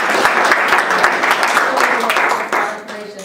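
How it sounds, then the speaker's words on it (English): Conference audience applauding after a talk on veteran hiring programs, a full, even patter of many hands clapping that holds steady and then begins to thin and fade toward the end. "I think we ought to give Ingrid a round of applause"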